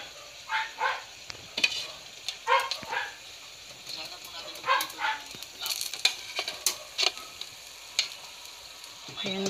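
Turon of sticky rice and banana rolls deep-frying in hot oil, a steady sizzle broken by recurring bursts of crackle and spatter, with intermittent sounds of movement close by.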